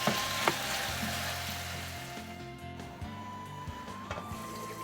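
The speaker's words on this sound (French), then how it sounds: "Je vais mélanger maintenant les deux pour continuer à faire ma sauce." Peanut paste sauce and tomato sauce are stirred together in a pot, a soft steady simmering hiss with occasional scrapes and knocks of the spoon, close and without speech.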